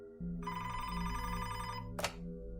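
Telephone ringing as a podcast sound effect: a steady electronic ring held for about a second and a half over a low hum, then a short sharp burst near the end.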